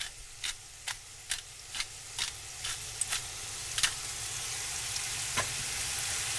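Vegetables sizzle and fry in a pan, with a steady background crackle and a regular run of sharp scraping stirs that thin out toward the end. No one speaks.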